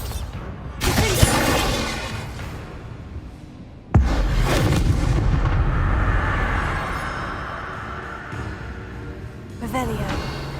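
Fiery Confringo blasting spells burst in Hogwarts Legacy, loud booming impacts with a sharp hit near four seconds, followed by sustained rumbling and crackle over game ambience.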